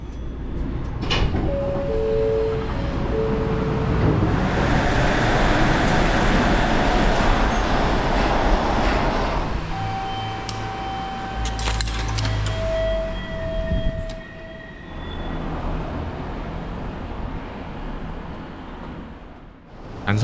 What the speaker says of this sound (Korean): 중간에 정차해 모노레일이 지나가는 모습을 구경했습니다.